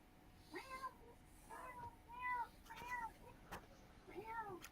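A cat meows repeatedly, about five drawn-out, fairly close meows at irregular intervals over a quiet background.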